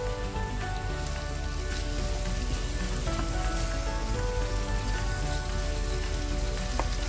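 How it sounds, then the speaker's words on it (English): Boneless mutton frying in ghee for Ambur biryani, a dense, steady sizzle and crackle close by, constant throughout with no speech. "fry the mutton a little bit"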